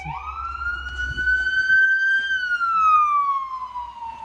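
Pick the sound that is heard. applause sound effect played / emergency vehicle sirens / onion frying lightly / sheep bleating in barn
emergency vehicle sirens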